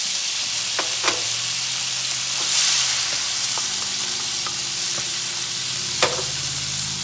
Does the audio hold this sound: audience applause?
no